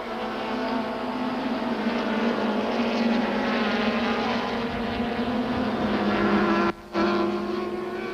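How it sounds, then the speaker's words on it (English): Super Touring race cars, including a Rothmans Audi and a Toyota Camry, racing at Kyalami in 1995 produce a continuous, loud engine drone with a steady pitch that holds throughout, briefly dropping away for a moment near the end. "White is sandwiched between Aberdeen and the second Rothmans Audi, driven by Terry Moss."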